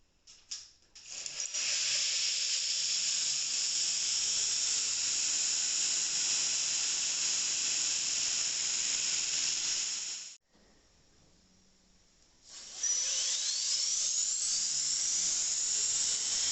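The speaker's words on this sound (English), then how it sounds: "tilting the surface of the ingot to leave marks of the sanding going in one particular direction" A power sander whines high and steady against a metal ingot, drops to a quieter idle for a couple of seconds, then roars back at full pitch.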